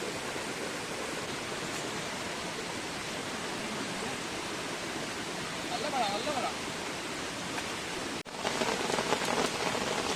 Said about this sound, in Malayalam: അങ്ങനെ വീണ്ടും ശക്തമായ മഴ കാരണം പണി കിട്ടിയിരിക്കുന്നു.